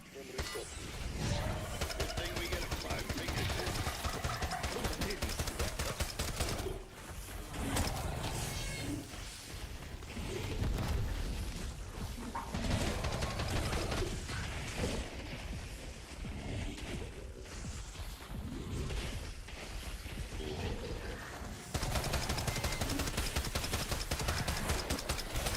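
Dense bursts of gunfire from the video game Black Ops 6 Zombies fill the scene, with rapid automatic fire and a loud, continuous mix running throughout.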